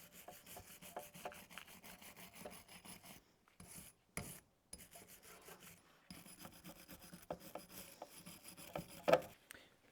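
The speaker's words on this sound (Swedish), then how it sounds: "Först ska vi ta och rengöra den här lite grann så att vi får på den." Coilover tube on a Volvo 740 being rubbed clean by hand, a series of dry scraping, rasping strokes in short bursts with brief silent gaps and a louder scrape near the end, close and fairly quiet.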